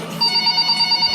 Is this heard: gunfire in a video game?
no